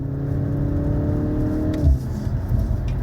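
A 2024 BMW M135 xDrive accelerates hard through a bend, its engine note a steady, loud drone heard from inside the cabin that shifts pitch near the end, with no talking.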